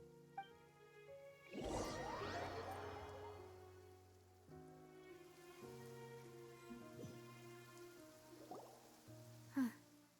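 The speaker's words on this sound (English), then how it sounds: "It's been raining non-stop for a few days now." Steady rain falls in the Genshin Impact video game, a soft continuous patter under musical tones, with a brief louder swell near the start and a short sharp sound near the end.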